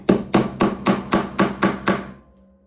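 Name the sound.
hammering dowels in with a mallet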